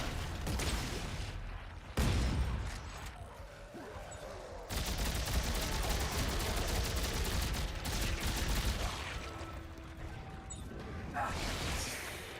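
Gunfire in the video game Dead Space 3 comes as dense bursts and sustained rapid fire with harsh noisy blasts. Game ambience runs underneath, and the volume is steady and fairly loud.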